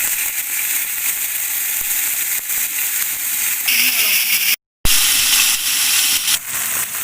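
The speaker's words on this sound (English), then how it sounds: "Next thing I need to do is that try and fry the pieces of basa there." Pieces of basa fish frying in hot cooking oil in a pan, a steady loud sizzle and hiss throughout, with a brief dropout near the middle and a voice talking over it.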